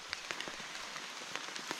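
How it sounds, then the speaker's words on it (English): Rain falls steadily at night on a jungle camp in Laos, a soft continuous patter with scattered distinct drops tapping nearby surfaces, fairly quiet and with no voices. "It's 4:30 in the morning and we've been woken up by rain."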